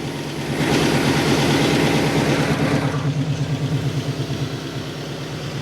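An LS V8 with a Terminator setup idles in a Willys wagon, a steady, loud, lumpy low rumble that fires up after a brief quiet start and settles into a rhythmic idle with no talk.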